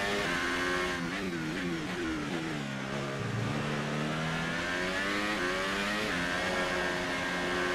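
Formula 1 race car engine in F1 2018, a high whining roar that drops in pitch as the car slows, then climbs steadily again while accelerating, continuous and close.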